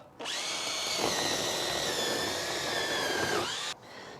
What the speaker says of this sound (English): use a wire brush in a drill